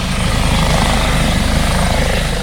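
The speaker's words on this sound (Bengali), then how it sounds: "জল্পেশ মন্দিরে হেলিকপ্টার থেকে পুষ্পবৃষ্টি হলো" A helicopter flies over the Jalpesh temple while showering flowers on devotees. Its rotor thrums loud and close in a steady, rapid pulse, with no voices.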